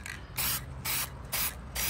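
Short repeated hisses from a cheap aerosol spray paint can coating a 1957 Chevy, four bursts in a steady on-off rhythm, close and fairly loud.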